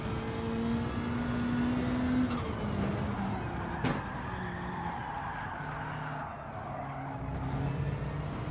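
Race car drifting with screeching, skidding tires in Gran Turismo 7, a steady loud engine drone with sustained tire squeal throughout and a sharp bump near the middle.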